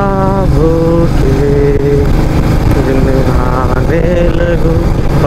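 A Royal Enfield Meteor 350 motorcycle rides along, its steady loud engine drone rising and falling in pitch as the throttle changes, with no talking.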